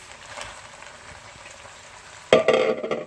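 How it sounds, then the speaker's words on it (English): Eggplants tipped all at once into a hot pan for a traditional Turkish dish: quiet kitchen background, then a sudden loud burst of sizzling and spitting oil that stays bright and crackling to the end. "And now I shall add my eggplants all at once."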